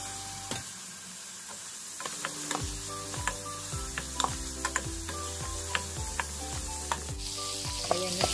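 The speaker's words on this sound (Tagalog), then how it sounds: "At syempre, ang ating hipon. Igisa na natin dyan." Shrimp sauté in a pan with tomatoes, giving a steady sizzle under repeated clicking, scraping strokes of a utensil against the metal, close and continuous.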